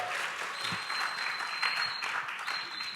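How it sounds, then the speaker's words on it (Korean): Applause from a church congregation at a revival service, welcoming an evangelist to the front; steady, dense clapping that fills the whole stretch at moderate level, with a faint high tone running through it. "또 우리 박수로 또 환영하겠습니다"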